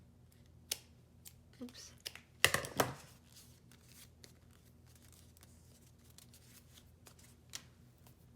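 Scissors snip through paper for a junk journal, a quick close cluster of cuts in the middle of an otherwise quiet stretch with faint handling rustles and a brief spoken word.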